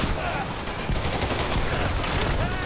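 Gunfire during a firefight in the video game Dirty Bomb, dense bursts and rattling shots crowding together loudly with little pause, overlapping in a chaotic exchange.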